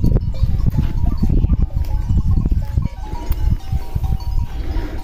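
Goats bleating, including one with a chest problem, outdoors on a farm near a gate: a loud, dense chorus of overlapping bleats and shuffling close by, continuous throughout.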